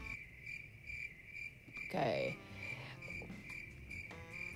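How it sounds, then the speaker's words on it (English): Steady cricket chirping persists through the whole stretch as a continuous high trill, moderately loud, with a brief spoken word and some background noise interrupting midway. "the crickets are the best."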